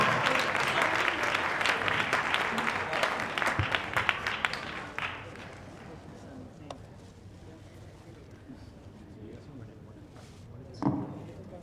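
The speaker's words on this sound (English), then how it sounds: "Give them a round of applause" Audience applause at a community event, a dense burst of clapping for about five seconds that thins out and gives way to quiet room noise with scattered light sounds.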